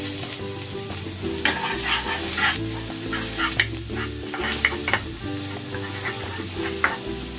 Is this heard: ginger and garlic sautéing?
yes